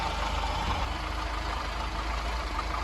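An Austin Allegro engine idles just after a small carburettor adjustment, a steady low rumbling drone with an even, slightly smoother tick-over, close by and constant, with no speech.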